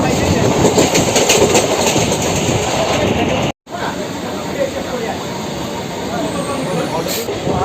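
The Sealdah to Naihati Junction Godda MEMU Special local train runs at speed, a loud continuous rumble and hiss with clatter, briefly cut by a sharp gap before the rolling noise resumes.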